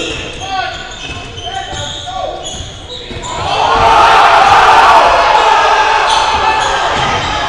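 A high school varsity boys basketball crowd in a gym swells into loud, sustained cheering and yelling after a quieter stretch of ball bounces and chatter, with an announcer's voice over the noise.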